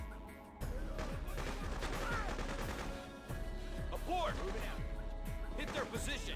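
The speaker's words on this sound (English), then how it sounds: "Stop shooting each other like morons." Rapid bursts of gunfire from the video game Freedom Fighters, dense overlapping shots and heavy impacts filling the whole stretch, with voices talking over the battle.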